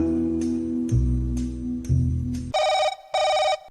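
A telephone rings for a radio prank call, a low buzzing tone followed by two clear, evenly spaced bursts of a higher ringing trill, loud and alone with no talk.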